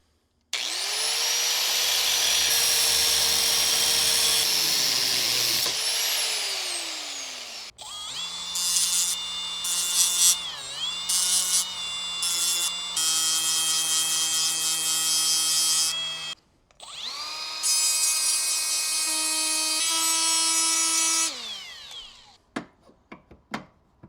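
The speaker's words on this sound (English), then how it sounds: "Now I am just going to cut off the end of this socket" A power tool cutting off the end of a steel socket while modifying a Dana 60 axle nut tool, loud high whining grind in several bursts, pitch dropping and rising under load, pausing between passes.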